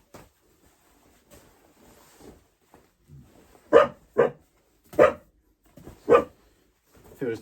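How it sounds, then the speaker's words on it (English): A dog barks indoors while clothes from a bulk mystery bundle are sorted. Four loud, close barks come in an uneven series, with faint movement and quiet sounds between them. "We have a dog helping out as well."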